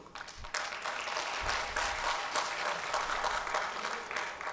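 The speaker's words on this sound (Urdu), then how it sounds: "ان کے لیے ایک بار ضرور تالیاں آپ بجا دیں" Applause from the audience at an Urdu poetry gathering in a Lucknow convention centre swells after a brief pause and holds as a steady, moderately soft wash of clapping.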